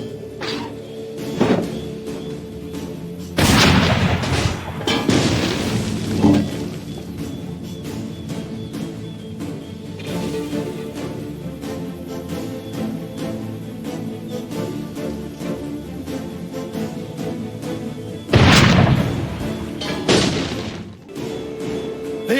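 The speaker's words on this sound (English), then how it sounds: "Help me load the cannon!" Cannon fire in the video game Assassin's Creed 3 booms out in a few heavy, loud blasts spaced far apart, with scattered thuds and battle clatter between them.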